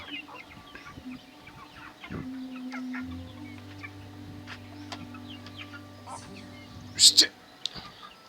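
Chickens cluck and chatter nearby while a low droning hum runs underneath and a couple of sharp high squawks stand out.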